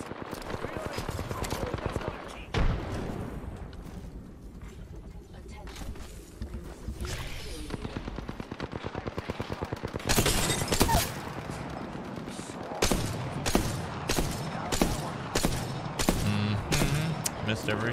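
Rapid bursts of gunfire from a fast-firing gun in PUBG, repeated sharp cracks in quick clusters throughout, with a voice talking between and over the shots.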